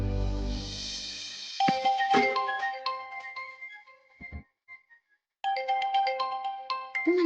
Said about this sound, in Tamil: உத்தமன், வசுக்கு ஃபோன் பண்ணுங்க